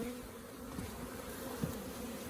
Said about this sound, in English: Let the bees crawl over.